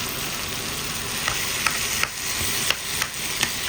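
A chana masala mixture for Punjabi chole kulcha roasts on a griddle, giving a steady close sizzle and frying hiss broken by repeated sharp scrapes and taps of a spatula stirring the mix.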